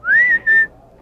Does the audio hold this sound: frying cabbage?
no